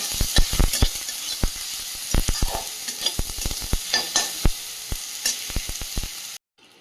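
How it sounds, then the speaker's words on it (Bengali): A whole tomato frying in oil left over from frying fish in a small wok crackles and pops in quick, uneven bursts over a sizzling bed, before cutting off abruptly near the end. "ওই তেলের মধ্যে টমেটো একটা ভেজে নিচ্ছি"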